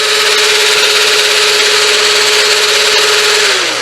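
A motorized foam blaster held at full rev, its blower fan pushing rounds through the top tube, giving a loud, steady whirring drone that holds constant for several seconds and then begins to wind down at the very end.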